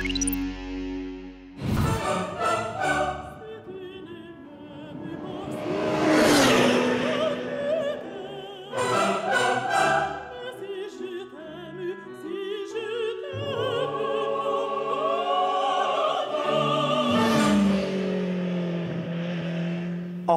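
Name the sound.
MV Agusta Brutale Corsa RR motorcycle riding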